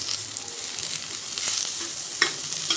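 Onion frying in a pan for a rustic village-style patvadi curry, with a steady close sizzle, soft crackling and an occasional stir or scrape, no voices.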